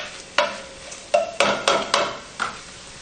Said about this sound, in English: We're going to brown it a little bit. Mix it all up with that Trinity.